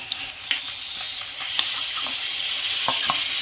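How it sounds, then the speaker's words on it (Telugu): Coriander leaves sautéing in oil hiss with a continuous watery sizzle, marked by a few light spatula taps and stirs close by, with no voices. "కొత్తిమీరను కూడా కొంచెము నూనెలో మగ్గించాలి"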